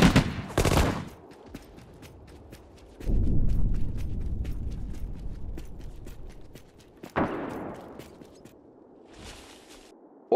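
Infantry gunfire in a video game: a sharp burst at the start, a heavier rumbling volley a few seconds later, another crack near the end and a final short burst, with quieter ticking between.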